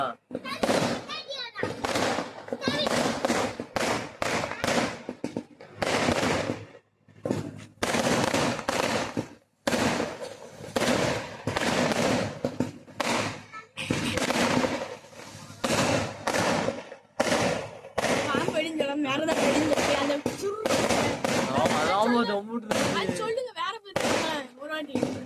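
Rapid, continuous crackling and popping from snake firecrackers goes on loudly for a long stretch, with children's voices mixed in.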